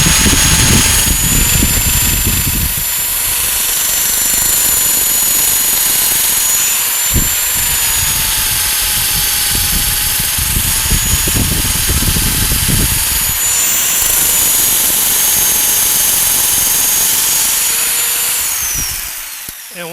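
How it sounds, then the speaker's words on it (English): A wood lathe running in reverse at slowed speed while a turned piece is sanded with 80-grit sandpaper, giving a loud, steady motor whine with bursts of rough abrasive scratching that stop near the end. "I usually put my lathe in reverse. Slow it down a little bit, and I start off with 80 grit sandpaper."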